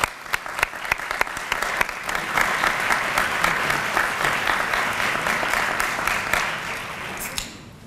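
Audience applause at a HOSA closing session, loud, sustained clapping from a large crowd with sharp individual claps standing out, tapering off near the end.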